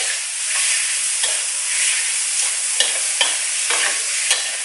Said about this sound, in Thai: ผัดจนหมูสุกก่อนนะ